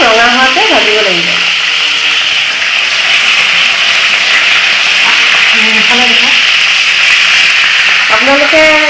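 Pointed gourd pieces sizzle steadily in hot oil for a fish curry with melon seeds, a continuous close frying hiss while someone talks intermittently over it.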